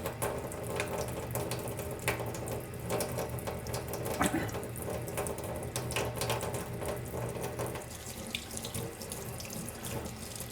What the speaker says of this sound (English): my fingers are being rinsed off now